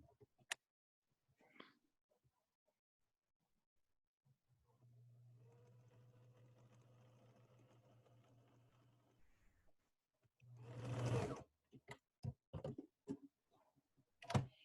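A sewing machine stitches a linen seam on a period-style underwear gusset, a steady mechanical whir running for about five seconds alone, followed by a louder burst of motor noise and several sharp clicks and knocks.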